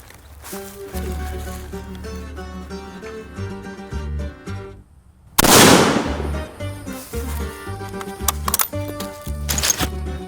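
A single loud, sharp Mosin rifle shot cracks out at a shooting bench on a range, standing well above steady background music that plays throughout.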